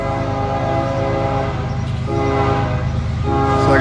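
A northbound intermodal freight train passes close and loud, its horn blaring in sustained tones over the heavy rumble of the rail cars.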